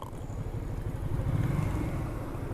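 A 125cc motorcycle engine drones with a low, pulsing rumble close by while riding, steady and fairly loud with no talk.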